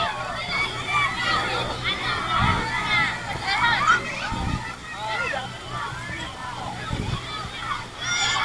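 Water splashes and sloshes in a foam bath at Kraton Waterpark in Sidoarjo, with intermittent splashes under a busy background of children's voices and crowd chatter.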